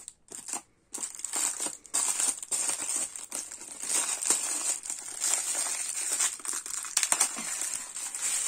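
Paper wrapping crinkles and rustles as rolls of lace are unwrapped, a close, busy run of crackling with brief pauses that carries on steadily for several seconds with no talk over it.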